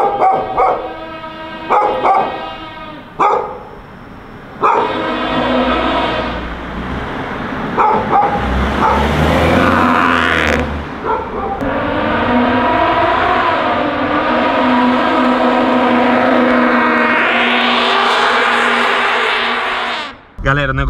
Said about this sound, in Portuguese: Não é o barulho do cinto. É o barulho do escape,